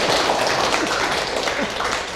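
Audience applause for a guest doctor at the close of a Korean Q&A session, a dense, even patter of many hands clapping together, steady and moderately loud with no talk over it.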